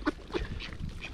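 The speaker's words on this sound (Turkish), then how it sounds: "Oo, şu bozbaşlı ördek." A grey-headed duck at a car camping spot gives a couple of short nasal quacks, close and moderately loud, against a steady low outdoor background.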